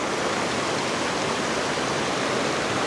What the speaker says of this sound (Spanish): Allá tenemos una caída de agua también.